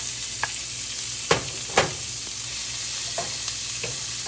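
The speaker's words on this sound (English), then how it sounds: "to this fat in the pan, we're going to add some peppers and onions" Red peppers and onions sizzle steadily in rendered sausage fat in a frying pan, with a few scattered clicks and scrapes from stirring over the continuous hiss.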